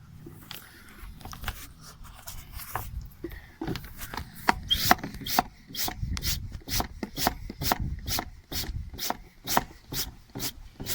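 A hand pump bottle drawing oil out of the engine of a 2006 Sea-Doo RXT, giving a series of regular squeaky rasping strokes, close up, that speed into a steady rhythm of about two per second.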